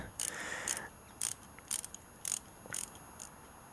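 Bolts on a Kawasaki ZZR-250 (EX-250) cam-chain tensioner being tightened evenly with a ratchet, a series of short, quiet metallic clicking bursts at a close distance.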